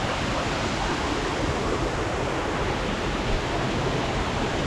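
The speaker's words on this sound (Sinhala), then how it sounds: "මෙහෙට ඉඳන් තමයි ඇල්ල කඩා හැලෙන්නේ." The Unudiya Ella waterfall near Warakapola cascades down, a loud, constant broadband roar of falling water heard close, with no voices.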